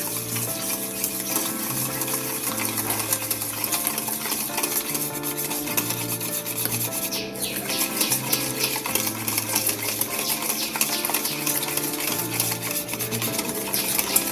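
Yogurt being beaten with salt in a bowl, a continuous rhythmic scraping and tapping of utensil against the bowl, steady and close, with music playing underneath throughout.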